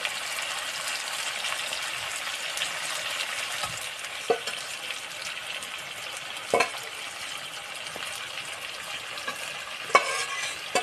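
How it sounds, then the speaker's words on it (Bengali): Duck meat curry stirred in a pot, with scraping utensil strokes and a few sharper knocks at irregular intervals over a steady low simmering sizzle, close and fairly quiet. "আমি নাড়িয়ে নেবো আবার ভালো করে"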